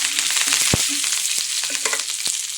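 Mustard seeds, cumin and chana dal frying in hot oil, giving a bright, dense crackling sizzle with small pops and a few light stirring taps, loud and close with no talk.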